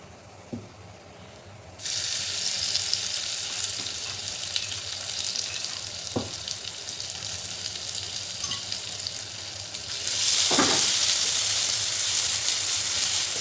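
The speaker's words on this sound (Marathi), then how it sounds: "जिरं तडतडले त्यामध्ये घालायचं ठेचा" Loud, steady sizzling of green chili paste (thecha) frying in hot oil with crackled cumin seeds, starting abruptly and swelling louder near the end, with a few soft clinks of stirring.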